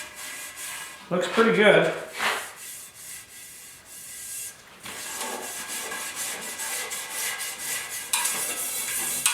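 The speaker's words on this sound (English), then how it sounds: "Just finish her off with a scuff cloth here, make sure everything is been sanded." A scuff cloth is rubbed over sanded primer on a 1972 Ford air cleaner, making a close, steady swishing scrape with a brief louder scrubbing burst near the start, and someone speaks briefly over it.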